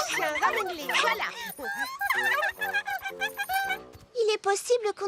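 A cartoon dog in a French children's show yips and whimpers in quick high bursts, close and lively, with brief yelps toward the end.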